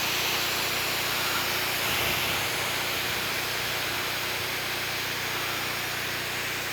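A fire pump hose on a wildfire mobile attack unit sprays water at 20 gallons per minute, a steady, broad, continuous hiss that holds at an even level throughout.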